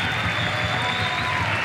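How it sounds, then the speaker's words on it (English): A stadium crowd at an A-League football match between Sydney and Wellington applauds the players in a steady, dense wash of clapping and crowd noise, loud and continuous throughout. "Big round of applause for both players"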